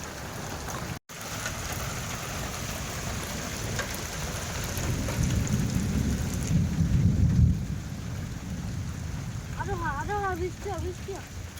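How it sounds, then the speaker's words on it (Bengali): Heavy downpour with large raindrops drums continuously, swelling louder midway with deep rumbling thunder during a hailstorm, steady and close throughout. "বৃষ্টির ফোঁটাগুলো কি বড় বড়, বাবারে মুষলধারে বৃষ্টি"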